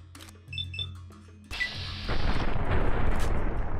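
A shotgun blast in Fallout New Vegas lands sharply midway after quiet clicks and small game tones, followed by a rising wash of sustained noise that stays loud to the end.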